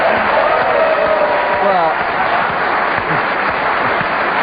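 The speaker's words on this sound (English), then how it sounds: "that's the problem right there, is that bunch of applause" Steady studio audience applause fills the whole stretch, with a voice speaking briefly over the clapping.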